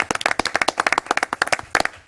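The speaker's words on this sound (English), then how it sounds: "Let's give another round of applause" A small group claps at a town council meeting, a brief burst of quick, fairly close individual hand claps in an uneven rhythm with no cheering.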